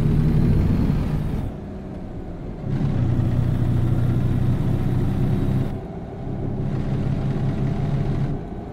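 A heavy truck's diesel engine idles in American Truck Simulator, a steady low rumble with loudness that shifts in blocks as the sound cuts between louder and quieter passages, with no talking.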